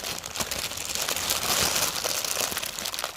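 A plastic mailer bag crinkles and tears open in irregular bursts, close and continuous for a few seconds with no voices over it.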